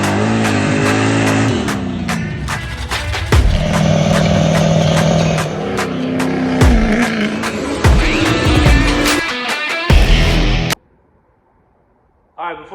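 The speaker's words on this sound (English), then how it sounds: "I'm doing a freaking John Force burnout right now. Third gear, no playing around." A 700 hp 6.0 Powerstroke diesel truck with a hot turbo and aired-down tires does a third-gear burnout, a loud, sustained engine roar with shifting tones that cuts off abruptly near the end, with a person shouting over it.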